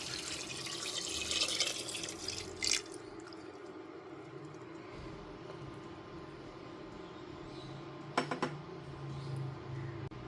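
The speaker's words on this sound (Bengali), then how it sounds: "এরপরেতে দিয়ে দিচ্ছি 2 কাপ পরিমাণ জল।" Water poured from a cup into a pressure cooker holding soaked chana dal: faint, close splashing and trickling under a quiet background, with two brief louder splashes.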